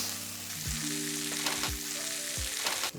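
Pork chops sear in a pan with a steady, close crackling sizzle, faint overall, while several low tonal hums and a few swooping low thumps sound beneath it.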